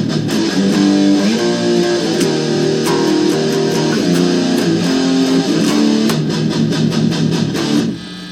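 Distorted guitar chugs through a riff, loud and dense with rapid palm-muted repeats and sharp accents, played alone without talking.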